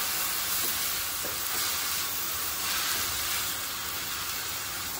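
Taakla leaves sauté in hot oil with a steady, dense sizzle and hiss that holds unbroken for several seconds, close and fairly loud, with no talking.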